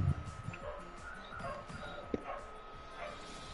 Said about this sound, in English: Oh, I hear a dog.